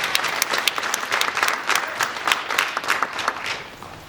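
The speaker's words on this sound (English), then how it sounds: "Mr. Hurst, let's give him another round of applause." A live audience at a Black History Month showcase applauds steadily, with dense, continuous clapping that stays fairly loud and even throughout, no talking over it.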